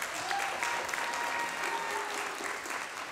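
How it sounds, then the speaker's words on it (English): Audience applause fills an elementary school musical, a steady, dense clapping from a crowd that holds at an even level throughout without pause. "Let's give him another round of applause."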